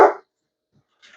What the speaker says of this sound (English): for the barking dog.